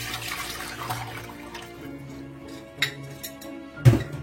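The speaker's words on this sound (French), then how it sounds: "j'ai rempli l'eau et je le verse dans ma casserole" Water trickles and splashes into a metal saucepan at close range for an olive brine, with a couple of sharp clinks of cookware near the end.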